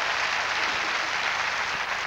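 Church congregation clapping together in a dense, steady burst of applause, loud and close, with no talking over it.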